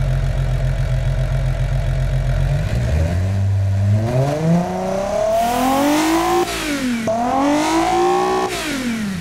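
A simulated car engine in BeamNG Drive idles with a deep rumble, then revs hard several times, the pitch climbing and dropping in repeated aggressive sweeps, loud and close with no talking.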